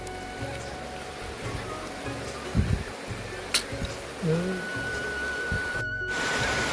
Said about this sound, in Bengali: যা বৃষ্টি পড়ছে হয়েই চলেছে